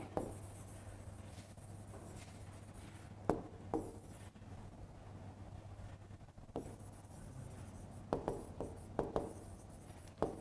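Pen or marker writing on a board during a university lecture on BERT, with soft scratchy strokes and a few sharper taps against a quiet room hum, faint and intermittent, no talking.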